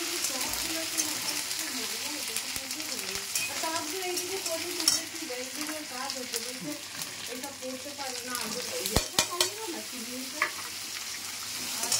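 Onions and tomatoes fry in a pan with a steady close sizzle, broken by scraping stirs and a few sharp clicks of the utensil against the pan; a voice talks at times over the cooking.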